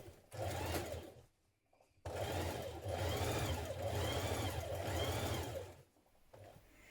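A domestic sewing machine runs in steady whirring bursts while stitching the side seams of a vintage-style coat skirt, Simplicity 8769. It starts with a short run, pauses briefly, then makes a long continuous run and a final short burst, close and alone.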